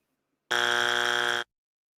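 A ten-minute timer going off with a single loud, steady electronic buzz lasting about a second, alone and surrounded by silence.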